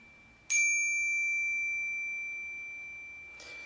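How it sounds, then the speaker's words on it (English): A copper bicycle bell is struck once and rings out a clear D note, its bright tone decaying slowly over about three seconds with nothing else heard. "So we would say that's the note of D on this copper bell."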